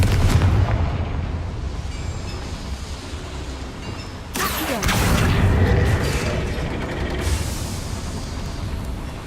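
A Confringo spell blast in the Hogwarts Legacy video game inside a small mine: a sharp, loud burst cuts through steady rumbling mechanical noise midway, followed by a lingering roar.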